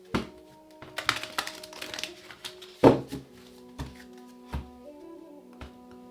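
Tarot cards riffle and snap in a series of irregular taps and thunks, close and fairly quiet, with one sharper crack in the middle.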